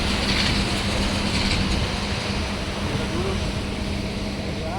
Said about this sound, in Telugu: ట్రైన్ అయితే వస్తుంది ఇప్పుడు.